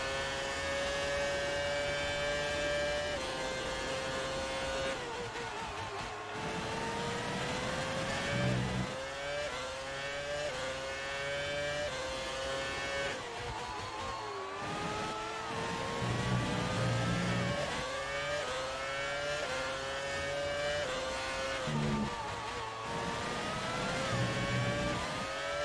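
A Formula 1 car engine in the F1 2019 racing game screams continuously, rising through the gears and dropping sharply under braking before climbing again, loud and dominant throughout with no talk.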